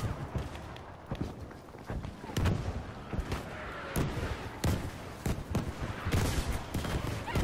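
Bombs going off in Battlefield V arrive as a string of sharp, booming blasts and rapid gunfire in a busy combat mix, with a voice speaking over the chaos.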